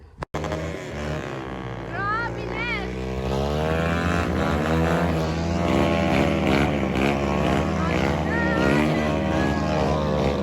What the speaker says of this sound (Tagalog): Pakinggan nyo nga naman po kung gaano naman kaiingay ang mga motor na yan.